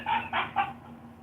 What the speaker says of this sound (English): the black dog started barking